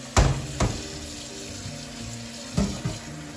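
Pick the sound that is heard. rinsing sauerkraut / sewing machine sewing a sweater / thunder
rinsing sauerkraut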